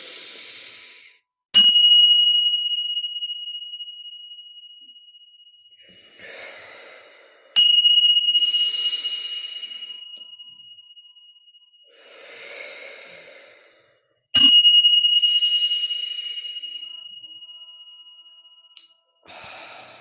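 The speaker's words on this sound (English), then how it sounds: "I'm going to ring the chime 3 times." A chime struck three times at roughly six-second intervals, each ring clear and close with a long fading ring-out, with slow breathing sounds in the pauses.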